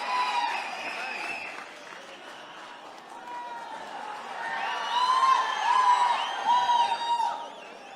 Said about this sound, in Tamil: அரங்கம் நிறைந்த கைத்தட்டல்.